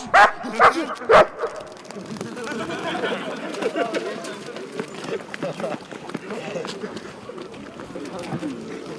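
Three sharp, loud barks from a police service dog ring out at the start of a detention demonstration, followed by scuffling movement and commotion beneath ongoing talking.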